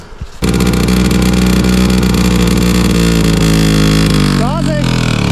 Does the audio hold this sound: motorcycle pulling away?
yes